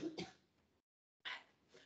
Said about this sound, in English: Chosen a convenient time to have a coughing fit